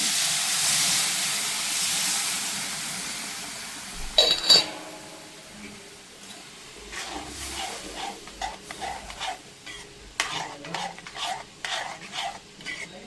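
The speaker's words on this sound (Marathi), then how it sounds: "आता त्यात सोडणारे मी पाणी." Water poured onto roasted semolina in a pan while making upma, producing a strong hiss of steam, then a sharp burst of sizzling and clinks, followed by softer stirring scrapes and rattles against the pan.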